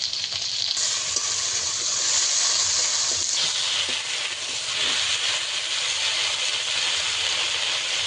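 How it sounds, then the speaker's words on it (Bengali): Okra frying over a raised flame in a pan for a vegetarian okra and potato curry, a continuous loud hissing sizzle that swells after the first second and holds steady, with no talking. "ভালো করে আমি এই ভেন্ডিগুলোকে ভেজে নেব, একদম লাল লাল করে ভেজে নিতে হবে।"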